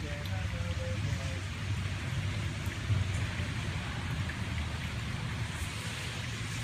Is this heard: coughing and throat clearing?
no